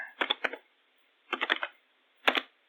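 Computer keyboard typing comes in three short bursts of quick clicking keystrokes, close and clear with quiet gaps between.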